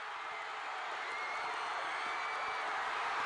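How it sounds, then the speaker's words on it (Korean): Crowd of KIA Tigers baseball fans roaring in a sustained, dense wave of cheering as their team takes the lead, broad and continuous with no individual voices standing out. "마침내 경기를 뒤집자 하늘을 찌를 듯한 환호성이 터져나옵니다"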